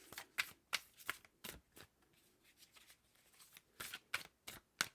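Tarot cards are shuffled in quick riffling bursts, crisp papery flutters repeating irregularly with short quiet gaps between, close and fairly soft, with no talking.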